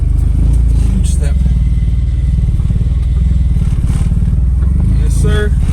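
A once-stolen car's engine runs as it drives under its own power, a steady low rumble with rough clatter, loud and continuous throughout, with faint voices underneath.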